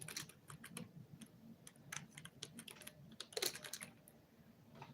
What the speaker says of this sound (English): I'm going to type that in there